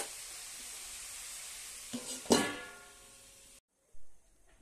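Cabbage sizzles in a pan with spices, turmeric, salt and tomato, a steady fry broken by a couple of sharp stirring scrapes and clanks, then cut off and briefly resumed.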